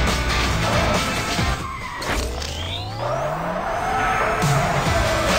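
Engines roar and tyres squeal in an Android police car racing game, a continuous loud motor drone with sweeping pitch changes and skidding screeches throughout.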